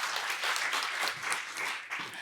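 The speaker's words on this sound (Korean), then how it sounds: "다시 한번 뜨겁게 박수 한번 부탁드리겠습니다" An audience at a public-sector HRD lecture contest claps warmly, a full burst of many hands with slight swells and dips in intensity over a couple of seconds.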